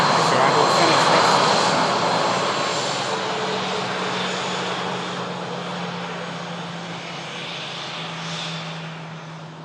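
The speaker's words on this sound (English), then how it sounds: "Next arrival, Sun Express." Sun Express airliner arriving with a loud, broad jet-engine roar at its strongest early on, easing gradually as the plane moves on.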